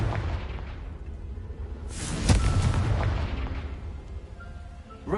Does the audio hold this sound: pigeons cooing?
no